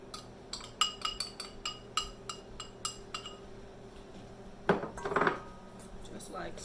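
Ingredients are mixed together in a bowl, making a series of sharp clinks and taps of a utensil against the rim, then a short scraping burst, all fairly quiet and close.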